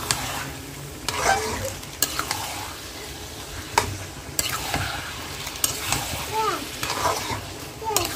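Meat frying in a pan with ginger and garlic, a close sizzle broken by several sharp spoon and pan clatters and stirring scrapes, with faint voices in the background.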